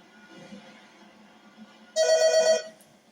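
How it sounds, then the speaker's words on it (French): A landline telephone rings once in a bright electronic burst lasting about half a second, loud and close over a quiet indoor background. "mon téléphone fixe, il avait sonné"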